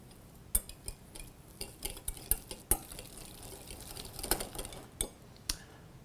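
A spoon stirring salt and pepper into a potato-based mayonnaise in a bowl, a series of light clinks and taps against the dish at an uneven rhythm, quiet and close with no talk.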